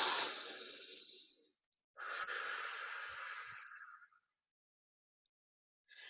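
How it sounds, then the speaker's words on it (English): Deep breathing during a guided relaxation yoga session: a long, airy inhale through the nose, a pause, then a second long breath out through the mouth. Both are close and soft, with no talk over them. "Take a big breath in through the nose, exhale through the mouth."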